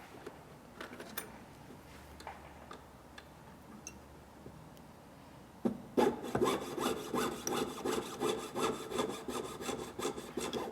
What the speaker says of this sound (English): mark it with a Sharpie marker, and then we're going to saw it off